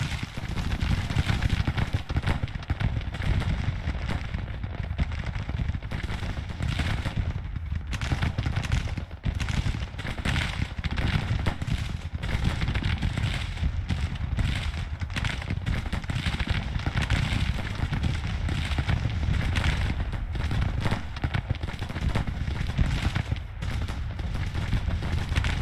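Massed musket fire from a Union line ordered to fire at will in the Grand Tactician strategy game, a dense, continuous crackling roar of overlapping shots with distant artillery rumble, steady and loud throughout.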